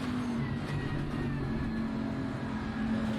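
Bentley race car engine in the SimGrid sim racing game at Silverstone, a steady loud drone with a sustained tonal whine and slight pitch shifts, continuous with no talking.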